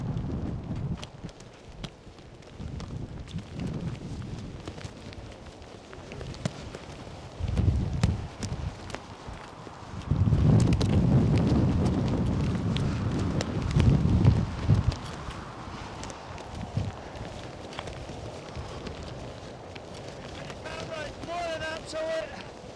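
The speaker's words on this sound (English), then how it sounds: "Really, really windy." Strong wind in snowy mountains roars and buffets the microphone in heavy gusts, swelling loudest midway, with crunching movement and a person talking intermittently.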